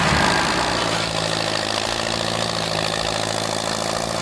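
A Massey Ferguson 135 tractor engine idles steadily and loudly, a continuous low diesel throb with an even rhythm throughout, heard up close and alone with no voices.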